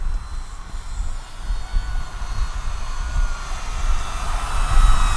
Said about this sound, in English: let's see just how low I can bring this plane by.